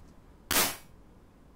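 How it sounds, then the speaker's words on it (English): A firecracker impulse run through a small-room reverb: a single sharp, loud crack with a short, quickly fading tail, followed by faint quiet and a tiny click near the end. "it's still the same firecracker, but with less reverb at the end"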